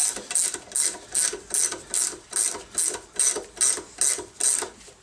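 Ratchet tightening a nut onto a washer over a urethane bushing: about a dozen evenly spaced bursts of crisp clicking, close and clear, alternating with brief pauses as the handle swings back.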